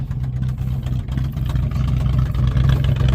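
A 1979 Dodge engine idling with a major misfire, close and loud, a rough uneven low rumble that stumbles irregularly throughout with no talk.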